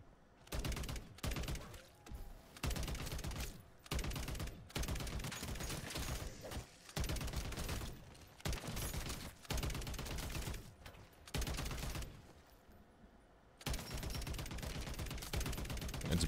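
Long, sustained bursts of rapid automatic fire from a minigun-like weapon mowing down zombies in MW3 Zombies, loud and close, broken by short pauses between volleys, with no talking.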